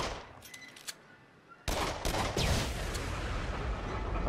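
Rapid gunfire in the horror shooter game Until Dawn: Rush of Blood: a few scattered shots, then a loud sustained burst of firing that runs to the end.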